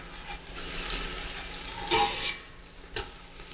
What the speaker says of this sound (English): So I'm adding the onions first.